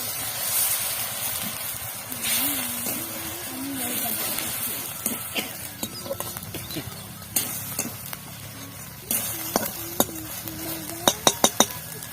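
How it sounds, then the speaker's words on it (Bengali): Vegetables, onions among them, stir-frying in a pan for veg momo filling as the water from rinsing the onion bowl is poured in, giving a steady close sizzling hiss with scattered utensil clinks and a voice faintly in the background. "দু মিনিট মতো একটু কষে নেব এবার আমি পেঁয়াজের বাটি ধোয়া জলটাকে আমি এর মধ্যে দিয়ে দেবো"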